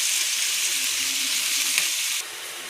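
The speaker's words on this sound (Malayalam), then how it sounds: "നമുക്കിത് വറുത്തെടുക്കാവേ" Prawns fry in hot coconut oil in a pan, giving a bright, steady sizzle that stays close and even, then drops slightly in level just before the end.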